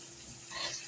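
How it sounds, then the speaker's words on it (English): Water poured from a tap over chicharrones in a pot, a brief soft splashing rush that swells slightly, quiet and close. "I'm going to put some water over this."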